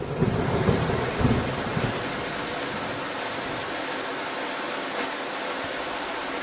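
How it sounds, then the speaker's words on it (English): Heavy nighttime rain pours down in a dense, constant hiss, while low thunder rumbles through the opening seconds before the downpour carries on alone at an even level. "it is frickin' pouring"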